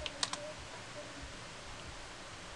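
A short burst of computer keyboard keystrokes near the start, typing on a machine running Ubuntu 12.04, followed by quiet background hiss for the rest.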